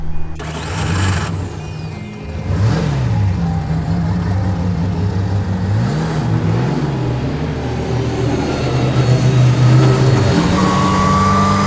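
Pur Sang replica of a Bugatti Type 35 driving on the road, its engine droning continuously and loudly up close, pitch rising and falling through gear changes over rushing wind noise.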